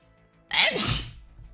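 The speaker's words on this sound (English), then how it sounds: "I'm gonna sneeze." A single loud, close sneeze bursts out after a brief quiet moment, trailing off into a breathy exhale.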